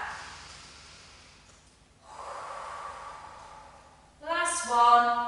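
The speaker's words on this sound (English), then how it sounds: "A couple more deep breaths now." During a classical mat Pilates session, slow deep breaths are drawn in and pushed out, soft and close, ending with a louder voiced exhale.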